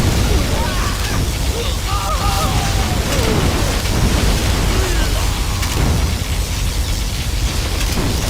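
A particle cannon strike explodes in Command & Conquer Generals ShockWave, a loud sustained roar of booming blasts and crackling energy that fills the whole stretch with game effects layered on top.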